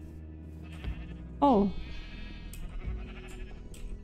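A Minecraft sheep gives a single short bleat during a German-language Let's Play, clear over quiet game ambience, with a brief voice nearby.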